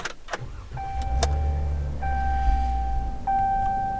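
A car drives along a road near Bushman's Paradise, with a low steady engine and road rumble, a few sharp knocks early on and a thin whining tone coming and going throughout, no speech.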